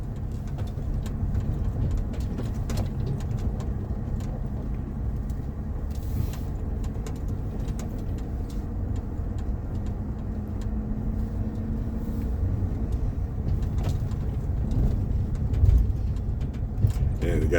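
A car creeping slowly along a rutted, bumpy dirt road on the Thumb Butte Loop, with a steady low engine rumble and road noise heard from inside, plus occasional knocks from bumps.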